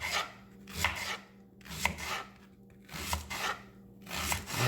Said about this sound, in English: the first thing we're going to do is we're going to chop up our onion